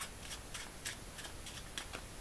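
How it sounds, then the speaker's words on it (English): A deck of playing cards is cut and shuffled by hand during a magic trick, giving a run of soft, quick riffling and slapping bursts, close and quiet with no talk. "you're going to give the deck a few cuts and a few shuffles as well"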